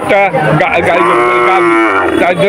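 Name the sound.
cow mooing at cattle market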